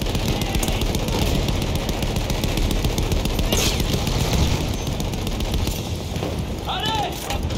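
Rapid, sustained machine gun fire rattles continuously in the video game Battlefield 1, with scattered explosions and battle noise layered over shouted French voices.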